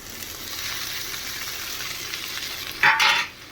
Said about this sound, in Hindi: प्याज गया है भून, अब इसमें फटाफट से डाल लेते हैं अपनी भिंडियाँ।